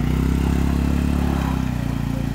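A vehicle engine idles and labors with a steady low rumble and clattering as the car gets stuck crossing a small stream on a forest track near Sindurkhol waterfall in Gariyaband, Chhattisgarh; the sound is close and continuous, with no talk.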